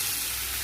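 Liquid milk poured over simmering vegetables (yardlong beans, drumsticks, pointed gourd, bitter gourd) for Bengali dudh shukto, giving a steady broadband hiss and sizzle that holds evenly through the short moment, with no talking.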